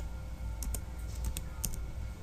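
Keys clatter on a computer keyboard in short bursts of quick clicks separated by brief pauses, close and fairly quiet over a low background hum.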